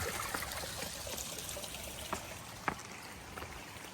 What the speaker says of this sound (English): I haven't seen too many water features lately, but this is a pretty cool one.